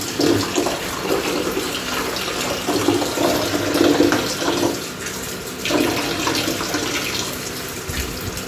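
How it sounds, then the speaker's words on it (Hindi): Raw meat rinsed under a running tap in a village kitchen, water splashing steadily with uneven surges as the pieces are moved and rubbed by hand. "जल्दी जल्दी से धो लेती हूँ इसे, क्योंकि अभी उधर पानी में रखना है।"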